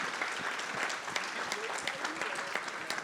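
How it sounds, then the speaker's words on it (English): An audience at a live event claps steadily for a few seconds, sounding fairly faint and distant, with some crowd murmur mixed in. "let's give him a round of applause."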